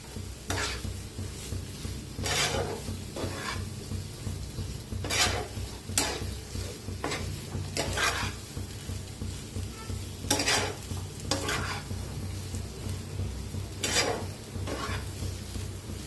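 Aloo paratha roasting in a hot pan, a steady low sizzle with repeated sharp scraping and stirring strokes from a spatula against the pan, spaced every second or two, close and without talk.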